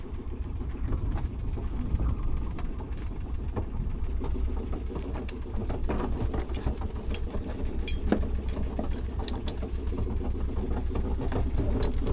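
Sailboat engine running underway, a steady low rumbling hum with mechanical ticking layered on top, continuous and fairly close throughout.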